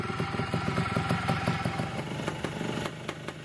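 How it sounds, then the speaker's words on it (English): A 1970s Yamaha DT250 two-stroke trail motorcycle runs close by, its engine chattering in a rapid, steady beat with slight rises in pitch. "Yamaha's DT250 is one of the more successful two-stroke trail bikes of its day"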